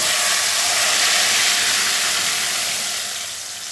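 Mashed dal poured into a hot tempering of dried red chillies and cumin, giving a steady, loud hiss and sizzle that fades slightly toward the end, with no talking.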